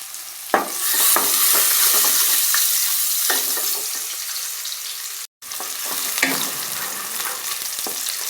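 Halved green chillies dropped into hot oil for fried rice, a loud steady sizzle and crackle close by, with stirring scrapes and a brief gap partway through.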